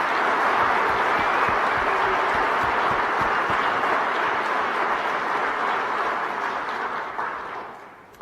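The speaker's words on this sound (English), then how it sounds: "Will you join me in giving Courtney White a round of applause for all his work?" Audience applause at a university state-of-the-university address, a broad, sustained wash of many hands clapping that holds steady and then fades toward the end.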